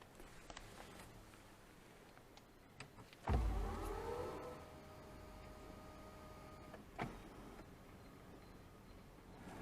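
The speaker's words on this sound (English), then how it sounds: "the power tilt and telescopic steering wheel and powered driver's seat will recall their last memory setting" Electric motors in a 2020 BMW X5 xDrive45e M Sport whir as the power tilt and telescopic steering wheel and powered driver's seat move to their memory setting, a steady hum starting with a thump and running for several seconds inside the quiet cabin.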